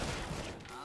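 A rapid burst of gunfire in Counter-Strike, dense and crackling, fading out over a fraction of a second.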